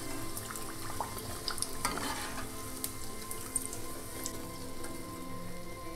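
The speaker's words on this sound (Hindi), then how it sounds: "उलट पलट करते हुए तल लेंगे" Puris deep-frying in hot oil as they are turned over, a steady close sizzle and crackle with faint scattered pops and no voices.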